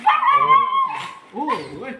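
A dog stranded in deep floodwater whimpers in a long high whine, then gives a few short yipping barks, close and fairly loud.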